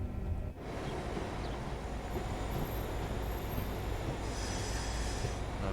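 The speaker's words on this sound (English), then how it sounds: "Another train departing there." Electric passenger train departing a station on the Cathcart Circle in Train Sim World, a continuous rumbling wheel roar with faint high squeals, loud and steady throughout.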